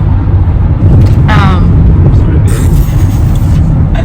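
Loud, steady engine rumble of a car driving on a road, with road noise filling the low end throughout.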